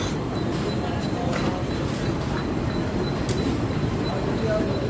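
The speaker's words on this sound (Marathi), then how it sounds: "ट्रेन आली आहे." Mumbai local train at a station platform, a steady loud rumble and rattle of carriages with crowd noise around, no clear build or fade.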